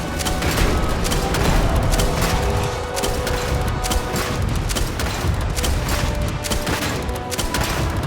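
Sustained gunfire during a firefight in the video game Starfield, dense and loud with rapid overlapping shots and booming impacts filling the whole stretch without a break.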